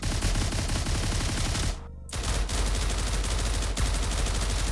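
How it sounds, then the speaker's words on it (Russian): Rapid automatic gunfire from an OTs-14 Groza rifle in the game STALCRAFT: X, loud and close. A dense stream of sharp shots breaks off for a moment and then resumes in another sustained burst. "Обновлены звуки выстрелов ОЦ-14 Гроза и"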